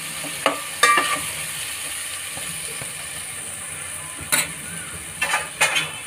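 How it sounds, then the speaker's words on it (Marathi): Chopped tomato and onion fry in a pan for street-style egg fried rice, giving a steady hiss of sizzling, broken by several sharp scrapes and clatters of a spatula stirring against the pan. "हा टोमॅटो आणि कांदा जरा थोडा ना 2 मिनटं व्यवस्थित शिजवून घेऊया"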